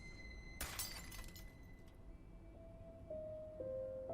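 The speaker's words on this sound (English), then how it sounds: "And then I heard glass break." Glass shatters sharply in a quiet, snowbound cabin during a blizzard. A bright burst of breaking and tinkling lasts about a second over a low steady hum, followed by faint tones.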